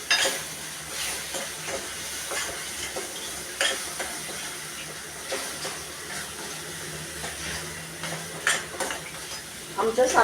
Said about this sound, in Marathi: हा वाटलेला मसाला टाकूया आता आपण